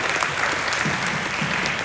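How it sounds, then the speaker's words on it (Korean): A crowd applauds steadily, dense clapping filling the room at an even, sustained level throughout. "박수 부탁드립니다."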